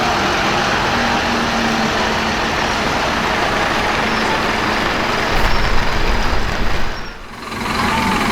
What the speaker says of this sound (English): now let's listen to the engine of the Scania OmniDekka a bit